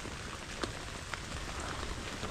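Monsoon rain patters on ampalaya (bitter gourd) plants, a soft continuous hiss with a few sharper drops landing close by.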